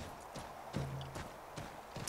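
Faint, steady clip-clop of horse hooves at a walking pace in the video game Assassin's Creed 3, regular thuds under a soft background hum.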